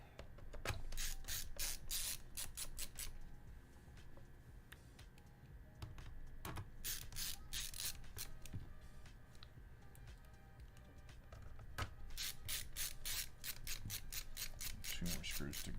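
Screws being tightened inside a gaming PC, giving repeated close ratcheting clicks in several bursts, each of rapid small clicks, separated by short pauses, with a light rubbing background.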